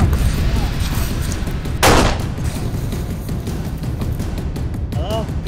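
Gunfire in a zombie survival video game: one loud, sharp blast stands out around the two-second mark over a steady wash of in-game ambience, with no talk over it.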